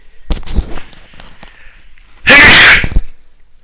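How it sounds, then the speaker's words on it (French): A single loud, sharp sneeze bursts out close by, preceded by a quiet intake of breath and faint murmuring. "Attention, je vais éternuer."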